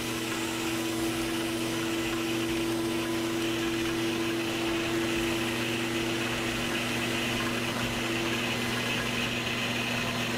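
A Sirena water-filtration vacuum cleaner runs steadily while cleaning carpet, a constant close, moderately loud motor drone with a tonal hum and no talk.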